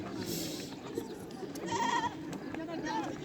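Sheep bleat at a market, several wavering bleats rising over the crowd, with steady chatter and nearby people talking throughout.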